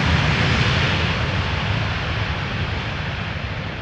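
Ryanair airliner landing on a damp runway at Amsterdam Schiphol Airport in crosswind, a steady loud roar of engine and rushing air, slowly fading, with no talking.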